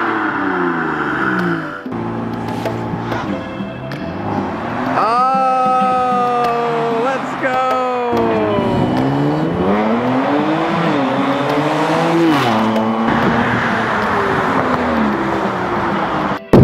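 A stock Kia Stinger's engine revs repeatedly at the Chicago Auto Show, rising and falling in pitch as the exhaust roars, loud and close throughout.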